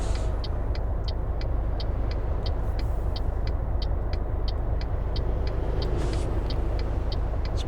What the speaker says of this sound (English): Some nice trucks going past.